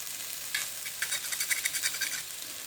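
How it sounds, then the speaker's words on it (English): Onions sizzle in a pan with garlic added as they are stirred, a soft steady hiss broken by brief scraping and crackling bursts, close and quiet with no talk. "to these onions, which I've been frying for the last 2 to 3 minutes, we're going to add 3 cloves of garlic"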